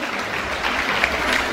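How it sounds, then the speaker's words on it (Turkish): Wedding guests applauding at a Turkish wedding, a brief burst of dense, steady clapping heard close and fairly loud. "Alkışlar gelsin."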